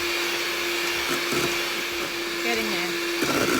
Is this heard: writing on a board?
no